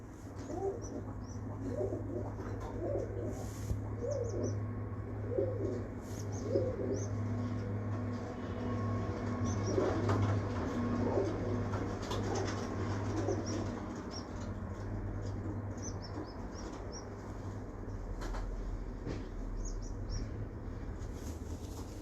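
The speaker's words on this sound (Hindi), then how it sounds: "ये सब कबूतर मुबशर के हैं।" Domestic pigeons kept by a breeder coo repeatedly in a loft, soft rhythmic throaty calls recurring over steady background hum, with occasional chirps and wing flutters.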